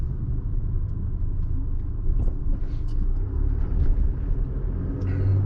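A car drives slowly through a Bureau of Reclamation recreation area along Canyon Road, with a low steady rumble of engine and tyres close inside the cabin and no talking.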